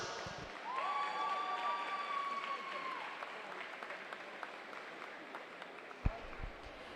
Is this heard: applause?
yes